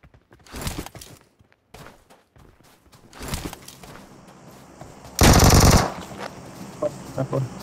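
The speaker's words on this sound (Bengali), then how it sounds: "যখনই ভিতরে আসে আমি MG3টা নেই, তখনই দেখি সামনে থেকে ফায়ার আসে।" An MG3 machine gun fires in PUBG Mobile. Scattered shots and footsteps are followed by one loud, sustained close burst of automatic gunfire near the end.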